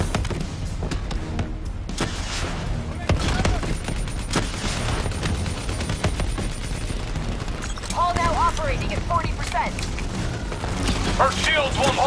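Continuous gunfire rattles through a Call of Duty Black Ops 3 firefight, dense overlapping bursts and impacts under steady battle noise, with voices shouting briefly near the end.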